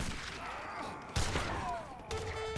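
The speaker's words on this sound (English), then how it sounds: "While this fighting is going on, Casper losing an awful lot of villagers." Musket volleys crackle during a battle in Age of Empires, a real-time strategy video game, mixed with thuds and other game effects in a dense, busy soundscape.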